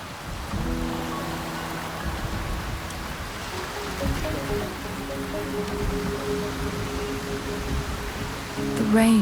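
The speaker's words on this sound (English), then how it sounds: "rain is subsiding, and the sky will soon clear" Rain falls steadily in the Wuthering Waves game world, a soft continuous hiss under quiet low musical tones, growing a little louder at the very end.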